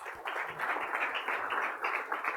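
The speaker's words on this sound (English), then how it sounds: "Give yourselves a round of applause." An audience at a farm bureau succession planning event clapping steadily, a dense even patter of many hands throughout, with no voices over it.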